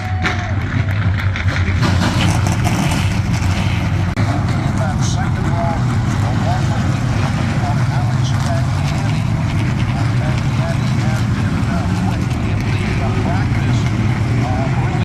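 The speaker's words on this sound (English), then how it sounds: "Drivers, start your engines!" NASCAR Canada Series race cars at Canadian Tire Motorsport Park in Bowmanville, Ontario start up and rev together, a loud continuous engine roar under a voice.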